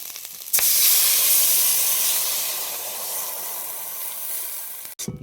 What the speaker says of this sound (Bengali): এবার স্কুইডগুলো দিয়ে দিলাম তার উপরে, দিয়ে এবার হালকা করে নেড়ে নিচ্ছি